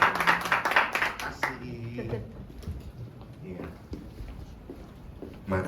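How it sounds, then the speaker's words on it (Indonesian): A church congregation claps during a worship service, with a brief burst of hand clapping in the first second and a half, then a speaking voice over quieter room sound. "Semua yang siap terima firman Tuhan boleh kasih tepuk tangan buat Tuhan"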